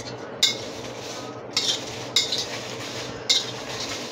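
Bay leaf and stone flower dry-roasting on low heat with a little oil for homemade Marathwada-style kala masala, stirred with a spoon that scrapes the pan in four separate bursts over a steady low hiss.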